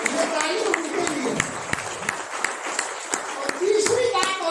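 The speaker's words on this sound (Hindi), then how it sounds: "ये ताली उनके लिए।" A packed hall of listeners at a journalism event claps in scattered, uneven bursts, with voices talking over the clapping throughout.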